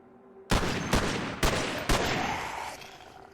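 Four loud gunshots ring out in the survival game Cataclysm DDA, spaced roughly half a second apart, each a sharp blast trailing into a rumbling decay.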